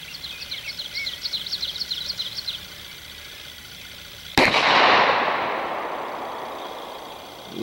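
One loud, sharp 10mm pistol shot cracks over a chronograph near the middle and echoes away slowly outdoors. Birds chirp faintly before it, and another shot is just starting at the very end.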